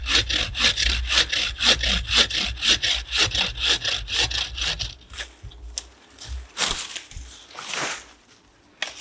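A hand saw cutting through bonsai tree roots in a growing bed, steady rhythmic back-and-forth strokes close up, then slowing into a few scattered rasps and scrapes.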